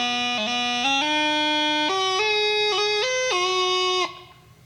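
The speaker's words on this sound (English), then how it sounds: "This is done on a practice chanter." A bagpipe practice chanter plays a short reedy melody of stepping, sustained notes, loud and alone, ending abruptly after about four seconds.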